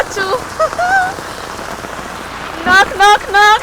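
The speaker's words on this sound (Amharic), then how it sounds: "ዝናቡም እየዘነበ ነው፣ በርዶኛል።" Steady rain falls outside a house in Ethiopia, a continuous hiss of drops on surfaces throughout while a person talks over it in short phrases near the start and end.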